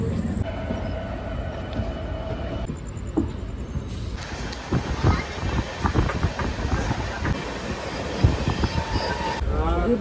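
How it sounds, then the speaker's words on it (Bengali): Passenger train leaving Howrah and running, heard from inside the carriage: steady low rumble and rattle builds as it picks up speed, with rhythmic wheel clatter and occasional squeals throughout. "এখন কিন্তু আমাদের ট্রেন ডিপারচার হলো"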